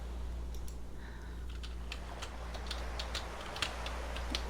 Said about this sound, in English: I'm sorry for the keyboard sounds.